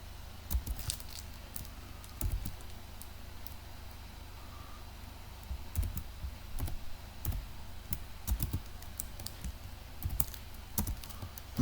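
Someone types code on a computer keyboard in a quiet room, with soft, irregular bursts of key clicks and short pauses between flurries.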